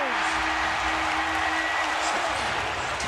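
A packed basketball arena crowd at a 2004 NBA playoff game roars steadily and without a break, with a broadcast commentator talking over the noise.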